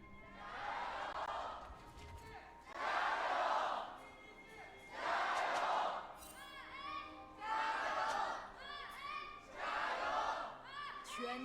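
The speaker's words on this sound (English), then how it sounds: "Gotta love hearing the crowd chants coming through." A large League of Legends esports arena crowd at an LPL match chants in loud rhythmic bursts, roaring waves of many voices repeating every couple of seconds with cheers between.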